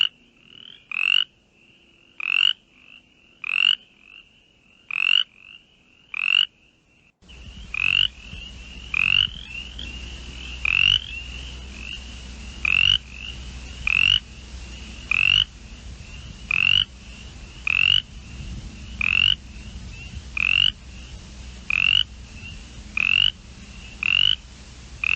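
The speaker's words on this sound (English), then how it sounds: "So here's Brimley's coarse frog." Brimley's coarse frog calling, a series of short, evenly spaced croaking pulses repeating about once a second, clear and close, over a quiet background that turns into a low outdoor hum partway through.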